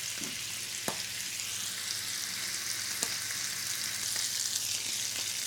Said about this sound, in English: these have been going for a couple minutes, browning away nicely here